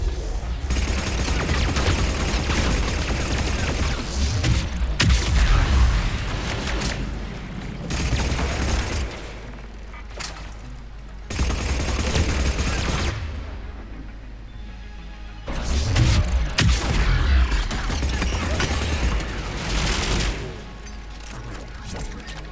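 Sustained bursts of in-game gunfire and impacts in Mass Effect 3, rattling automatic fire tearing into a balcony, loud and dense, swelling and dropping in waves with brief lulls between volleys.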